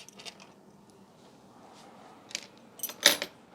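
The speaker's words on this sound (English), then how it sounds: "I have to get some Allen keys." Metal Allen keys jangle as they are picked up, with scattered small clinks building to a bright cluster of rattling near the end, close and fairly loud against a quiet room.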